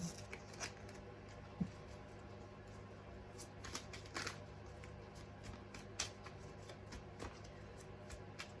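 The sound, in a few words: tarot cards being shuffled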